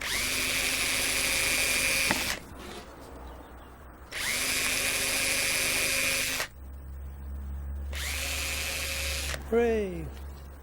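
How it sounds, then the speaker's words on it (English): A hand drill using a brass panel pin with its head cut off as a bit runs in three loud, close whirring bursts of about two seconds each, with short pauses between them. "you can just use a little brass panel pin and use that as a drill bit instead"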